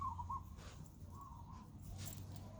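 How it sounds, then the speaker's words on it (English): Birds call outdoors in short bursts, with a faint caw-like cry near the start and again midway, over a low steady background rumble. "So we're all enjoying the lovely sound of the birds"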